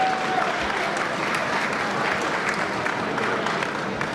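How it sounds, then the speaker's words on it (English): A gala crowd giving a round of applause, dense and steady clapping from many people filling a large hall, sustained at even loudness throughout. "give you a round of applause"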